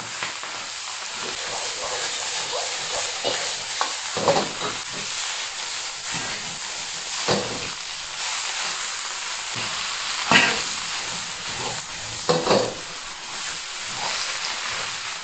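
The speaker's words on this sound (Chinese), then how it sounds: "再放小白菜大火翻炒" Bok choy stir-fried over high heat with garlic in peanut oil in a hot wok, giving a steady loud sizzle and hiss with repeated scraping, tossing clatters throughout, no talk.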